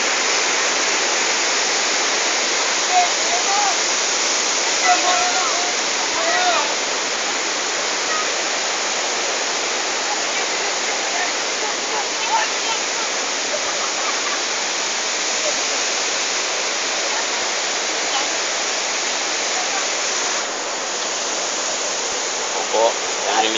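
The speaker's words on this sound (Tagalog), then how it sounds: "Ito po yung Mahihay Falls. Dito po sa Mahihay sa Laguna." Majayjay Falls in Laguna roars as a steady, dense rush of falling water, loud and unbroken throughout with no pauses, like close-up white noise.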